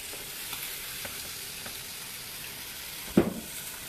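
Vegetables fry in a hot pan for a breakfast of filet mignon and black lentils, a steady broadband sizzle with faint clicks, then a sharp louder clatter near the end.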